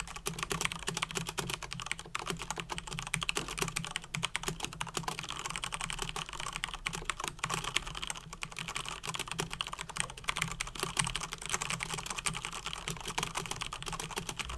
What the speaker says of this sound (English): Typing with one hand is so difficult.